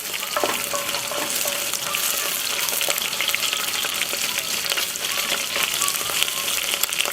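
Prawn shells from black tiger prawns roast in hot oil for a paella cooked on a braai, giving a loud, dense, close sizzle that crackles without a break and with no talk.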